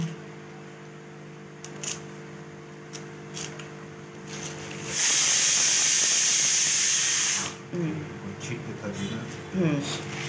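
A pressure cooker in a home kitchen releases a loud, steady hiss of steam for a few seconds, with quieter kitchen clatter and handling sounds before and after it.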